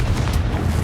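A Confringo blasting spell from a Hogwarts video game goes off in one short, dense, booming explosion, loud and close, lasting under a second.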